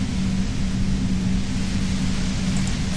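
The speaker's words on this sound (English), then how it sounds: "You hear through the white noise." Steady, dense hiss of white noise with a low droning hum beneath it, held at an even loudness throughout, the static effect from the Disco Elysium video game.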